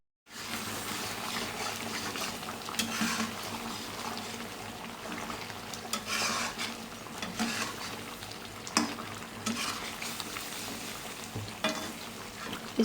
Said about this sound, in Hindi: आराम आराम से आपने चम्मच हिलाना है इस तरह से करके